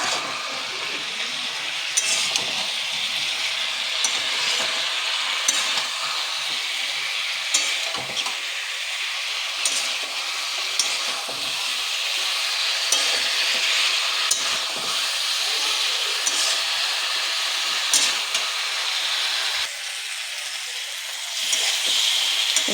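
Fish and potato curry sautés in a pan on a gas flame, a continuous bright sizzle and hiss interrupted by repeated spatula scrapes and occasional light clinks against the pan, with no speech.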